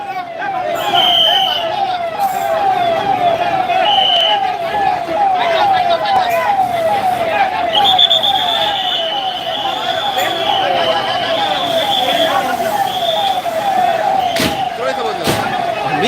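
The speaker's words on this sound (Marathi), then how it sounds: "हे पहा आता एम आय डी सीची आत्ता गाडी आलेली आहे" An MIDC fire engine siren arriving at a major fire in Mahad, a loud wailing tone cycling steadily and close for the whole stretch, with people talking and calling out beneath it.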